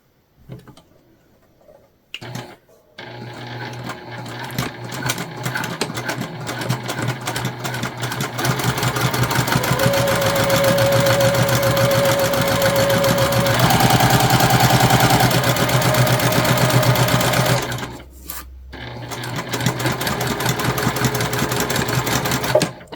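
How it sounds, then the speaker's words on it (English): A sewing machine runs steadily for a long stretch, stitching wristlet fabric pieces at a quarter-inch seam with a fast, even mechanical whir, then pauses briefly and starts again. "we're stitching them together at a 1/4 inch seam allowance"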